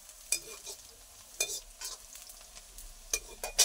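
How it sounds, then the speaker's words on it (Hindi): A tadka of garlic, onion, chilli, cumin and asafoetida fries in a pan. Quiet sizzling is broken by a few sharp scraping and stirring clatters of a spoon against the pan, heard close and without speech. "हम तड़का भूज रहे हैं, इधर देख सकते हैं तड़का में डाले हैं लहसुन प्याज मिर्चा जीरा हींग आदि"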